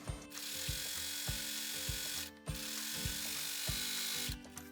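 An overlock serger stitches around a fabric pocket bag, running in a fast, steady mechanical whir with rapid ticking, briefly pausing twice before starting up again, close and without talk.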